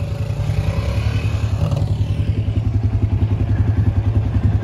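A child rides a small motorcycle in first gear, its engine putting out a steady low putter with a fast regular pulse, loud and close, alone with no talk.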